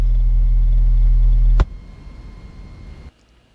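A deep, steady 40 Hz bass tone pumps loudly from a Soundstream X5 12-inch subwoofer driven by a Taramps Smart 3 amplifier inside a car, holding constant for about a second and a half before cutting off abruptly, leaving faint cabin noise.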